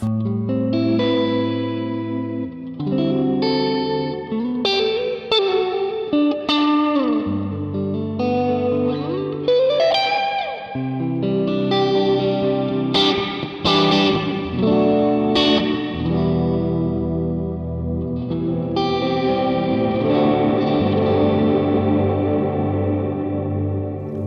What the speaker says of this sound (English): by increasing the size, you really can make it a very lush kind of reverb, okay, even at the plate setting